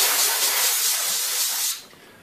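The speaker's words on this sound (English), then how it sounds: "Same again, just get a little bit of compressed air." A short burst of compressed air blasts dust off a computer CPU heatsink: a loud, close, steady hiss lasting under two seconds before cutting off to quiet.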